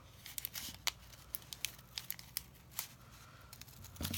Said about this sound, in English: So you're just going to cut that moon shape or half circle